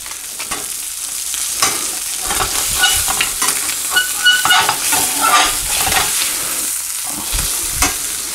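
Tilapia sizzles loudly in a hot frying pan while a spatula scrapes and lifts the pieces out, a steady close crackle broken by scraping strokes.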